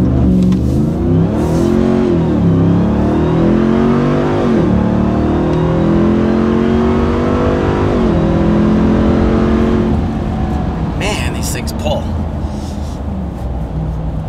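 A deep, throaty engine on a RAM 1500 TRX pickup with an MBRP Race Profile cat-back exhaust rumbles loudly nearby, revving up and down in repeated surges before settling, with a brief high clatter late on.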